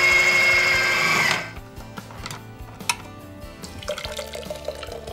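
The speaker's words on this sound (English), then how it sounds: "And now we're gonna throw it into our food processor." A food processor blends cooked carrot and butternut squash soup, a loud whirring motor grind for about the first second and a half, then cutting off into quieter kitchen clatter and small knocks.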